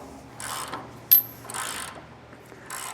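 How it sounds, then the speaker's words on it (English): Wrench tightening a nut on a utility trailer shackle bolt: a few short ratcheting clicks in separate bursts with a single sharp metallic tick between them, close and fairly quiet, no speech. "make sure that you got a wrench on there and you're not allowing that to move"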